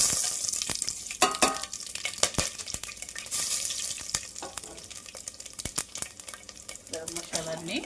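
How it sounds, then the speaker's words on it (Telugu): Garam masala fries in a little oil in a pressure cooker for an amaranth-leaf pulao, with a close continuous sizzle, bright crackles and repeated sharp spoon scrapes against the metal. "గరం మసాలాన్ని కొంచెం అయితే ఫ్రై చేసుకోవాలి. ఇలా ఫ్రై చేసుకోవడం వల్ల ఫ్లేవర్ అనేది బాగా వస్తుందండి."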